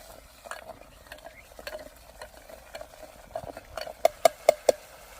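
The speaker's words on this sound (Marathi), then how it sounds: "हे सूप आटेपर्यंत आपल्याला वाटण चांगलं परतून घ्यायचं आहे." Mutton masala paste being sautéed with ladles of soup in a pan, soft stirring scrapes and low sizzle ending in four sharp clinks of a utensil against the pan.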